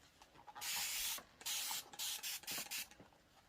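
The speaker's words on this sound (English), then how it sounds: "I'm just giving it a little spritz with a combination of magic spray and water" A spray bottle of magic spray and water spritzes quilting fabric in a handful of quick bursts: one long spray, then several short, sharp hissing puffs in close succession, near and fairly loud.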